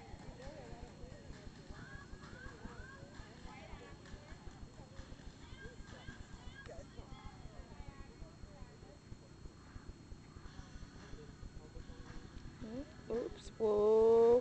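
A horse moves with steady soft hoof clip-clops throughout, fairly near, while people talk over it; a louder burst of sound rises at the very end.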